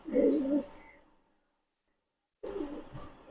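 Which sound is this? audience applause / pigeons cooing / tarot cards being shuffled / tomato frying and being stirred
pigeons cooing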